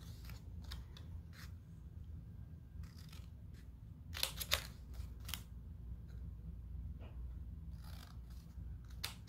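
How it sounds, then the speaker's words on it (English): Scissors snip through folded paper in a handful of short, crisp cuts, with a tighter cluster of snips near the middle, close and quiet over a low steady background hum. "take our scissors and you wanna cut along the fold lines about 2/3 of the way to the center"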